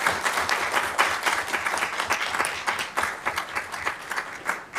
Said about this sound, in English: Big round of applause for those who protect us.